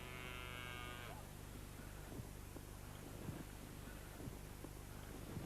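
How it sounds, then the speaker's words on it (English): Longhorn bull at a country park giving a single loud, long moo at the start over steady outdoor noise, followed by faint scattered rustling. "his breed of cattle are called Longhorns, because, as you can see, they've all got very long horns"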